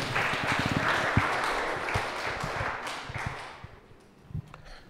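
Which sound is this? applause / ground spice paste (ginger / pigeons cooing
applause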